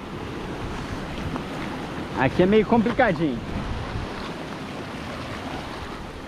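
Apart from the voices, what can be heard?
ocean waves at a beach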